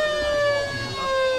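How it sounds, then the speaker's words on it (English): A loud, sustained siren tone at a country football match holds steady for a moment over faint crowd noise, a single long blast starting the second quarter. "the siren blows to start the second quarter"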